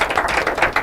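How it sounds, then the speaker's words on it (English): Audience applause at an inter-collegiate quiz and debate competition, a steady dense patter of many hands clapping from a crowd, continuous for a moment without a break. "A round of applause for my children"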